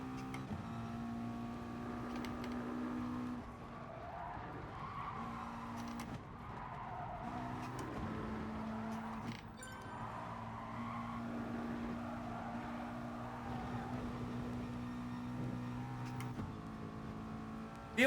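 A McLaren race car in the GT Sport video game drones steadily through the gears with a sustained engine tone, interrupted by brief shifts and tire squeal, with no speech over it.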